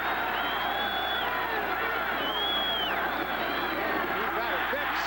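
A capacity crowd of 64,000 at a 1980 Bears–Buccaneers Monday night football game roars continuously in the stadium, a dense wash of chanting and cheering under a commentator talking.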